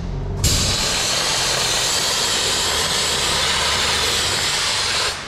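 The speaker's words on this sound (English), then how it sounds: "Once we turn the ice on and we introduce the ice" A Champ Vario dry ice blaster switches on abruptly and sprays dry ice from its nozzle in a loud, steady high-pressure hiss that holds for about five seconds before cutting off.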